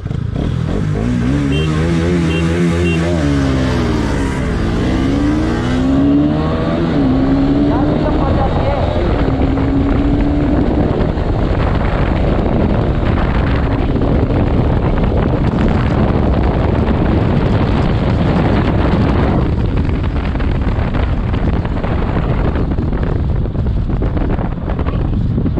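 Bajaj Pulsar RS200 motorcycles in a drag race, a BS6 bike against a BS4 bike, accelerate hard with engine pitch sweeping upward through gear changes, then drone steadily under heavy wind buffeting on the microphone.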